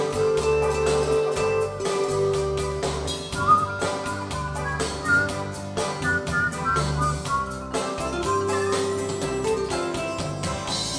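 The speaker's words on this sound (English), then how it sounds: "How's my whistling? Is my whistling good?" Someone whistles a lilting melody over steady, rhythmic backing music, the whistled notes clear and fairly close.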